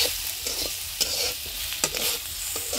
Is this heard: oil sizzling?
yes